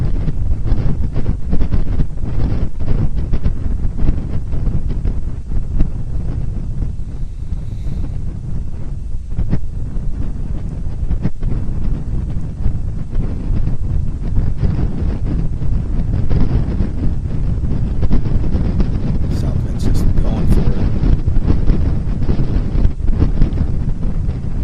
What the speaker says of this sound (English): It's probably wind.